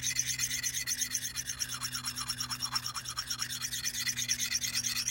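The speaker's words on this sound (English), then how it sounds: "if I start in the rear of the bevel, this back corner here, and move forward, you should hear a change in the tone." An axe bevel being sharpened on a DC4 pocket stone gives a steady, close rasping rub, with repeated strokes whose tone shifts slightly as the stone moves along the edge, and no talking.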